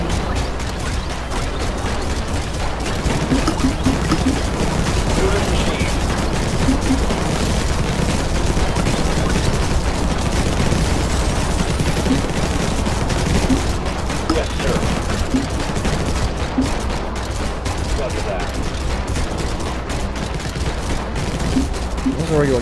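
Regular cannons firing in the video game Infested Planet, a loud, continuous barrage of overlapping gunfire-like booms and rapid bursts that never lets up, with speech faintly mixed in at times.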